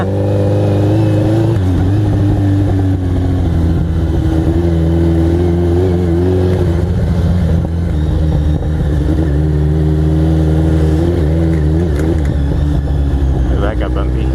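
A Kawasaki Z1000 motorcycle engine hums steadily and revs under load on a bumpy ride, a loud, continuous drone that rises and falls slightly, with a voice speaking over it throughout.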